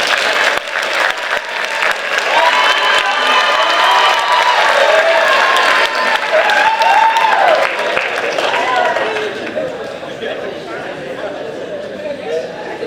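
Sustained audience applause at a Cheltenham Hall of Fame induction event, loud dense clapping filling the room with some crowd chatter and voices mixed in, tapering slightly toward the end.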